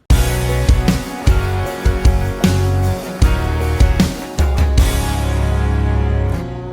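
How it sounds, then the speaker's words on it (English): A full pop country band with drums and electric guitars pounds through a loud chorus, chopped by sharp hits and brief pauses before everything cuts off abruptly at the end. "I do this really cool sort of like stop kind of thing with the drums and all the guitars"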